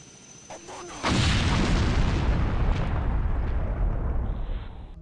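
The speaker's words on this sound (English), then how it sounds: "You use what will become the iconic rocket launcher to take it out and reach the helicopter just in time." Rocket launcher explosion in the Resident Evil remake video game: a sudden loud boom at about one second, then a sustained heavy roaring blast that slowly fades out.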